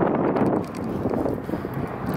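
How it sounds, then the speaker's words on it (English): Gusty wind buffets the microphone beside a 1968 Lincoln Continental outdoors, a loud low rumbling roar that swells and dips over a couple of seconds. "It is windy as can be."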